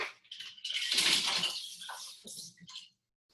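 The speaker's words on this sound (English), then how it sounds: "I'm going to just give it a super quick rinse." A brief burst of running water splashing as something is quickly rinsed at a sink, rising then trailing off into a few drips and clinks before silence.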